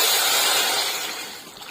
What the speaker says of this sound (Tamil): இப்போ நம்ம கொதிக்க வச்சு எடுத்து வச்சுருக்கிற புளி தண்ணியை இதில் சேர்த்துக்கலாங்க